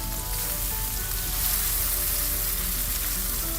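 Bacon frying in a pan, cooking for grilled cheese sourdough sandwiches, a dense, steady crackling sizzle heard close up and fairly loud without pause.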